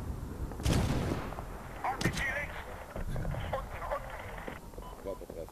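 Gunfire in the 2010 Medal of Honor video game, a few sharp shots and bursts mixed with radio-style chatter and player voices talking over the combat.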